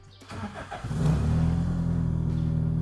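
A Toyota Corolla Twincam GTI engine starts up and settles into a steady, loud close idle with a low rumbling drone and a rhythmic pulse, its exhaust leaking slightly, with no voices.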